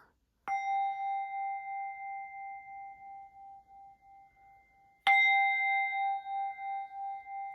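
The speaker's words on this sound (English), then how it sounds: "I would ring these bells again. These Tibetan singing bowls." Tibetan singing bowls struck twice, each a clear ringing tone with a slow pulsing shimmer that lingers and fades gently, heard alone in a quiet room.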